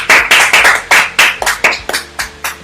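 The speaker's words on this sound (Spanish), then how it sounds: "dale un aplauso fuerte al que vive" Church congregation clapping hard in response to a sermon, with a dozen or so crisp, loud claps in a quick, fairly even rhythm that taper slightly toward the end.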